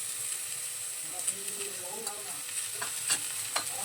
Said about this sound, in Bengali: সবজিগুলোর সঙ্গে নুন হলুদটা খুব ভালোভাবে মিশিয়ে নেবো